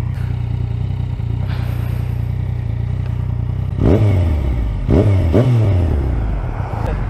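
Yamaha MT-09 motorcycle accelerating hard in third gear, a loud close engine roar rising in pitch through several sharp revving pulls with gear changes, under steady wind rush.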